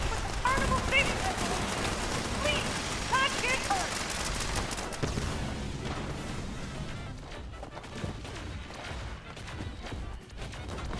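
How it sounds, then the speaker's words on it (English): Rapid bursts of explosive Gatling plasma gunfire crackle and pop in Fallout 76, a dense fusillade of sharp impacts with scattered blasts, heard under someone talking. "Somebody's got themselves an explosive Gatling plasma again."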